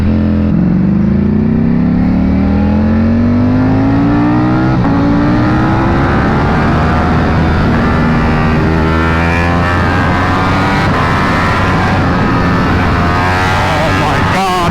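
A powerful sport motorcycle engine, a 2023 Ducati Panigale V4 or 2022 Aprilia RSV4, drones loud and steady under light throttle while riding, its pitch climbing smoothly through gears with wind rush and a rider's voice mixed in.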